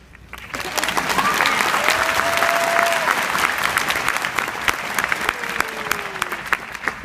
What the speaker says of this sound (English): Please give yourselves a hand for completing your undergraduate education and your integrative biology major